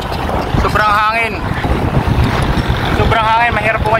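Strong wind buffets the microphone in a constant low roar, with a voice speaking briefly over it.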